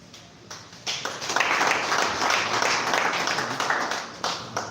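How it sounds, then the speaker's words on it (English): At a local government inauguration in Bassa, a gathering breaks into applause after a short pause: individual claps build into a dense, fairly close round that tapers off with a few scattered claps at the end. "A round of applause, a better round of applause"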